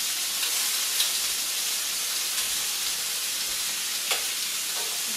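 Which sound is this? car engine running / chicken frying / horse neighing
chicken frying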